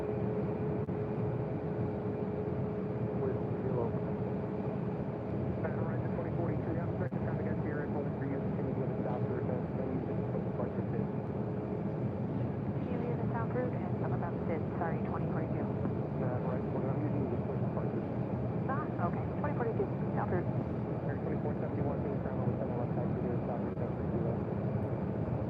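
Jet engine roar from a Boeing 737 at Phoenix airport, a steady broad rumble and hum lasting the whole stretch, with someone talking over it throughout.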